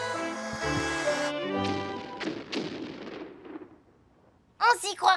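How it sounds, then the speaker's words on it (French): Cannon shots fired by pirates in a children's animated cartoon: several booming blasts that fade out in succession, with short cartoon sound effects before and after. "chaque fois que les pirates tirent un coup de canon"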